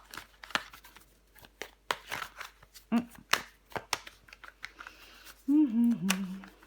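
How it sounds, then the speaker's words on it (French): Tarot cards are shuffled and laid out nearby with soft flicks and light slaps, while a voice talks briefly over them. "On va recouvrir des cartes."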